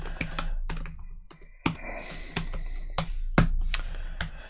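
Keys clatter on a computer keyboard in quick, uneven bursts of close, crisp clicks with short pauses, as someone types at a desk.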